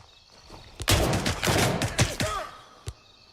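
Burst of rapid gunfire from a Gray Zone video game firefight, loud and sustained for about two seconds, then a single sharp shot afterward.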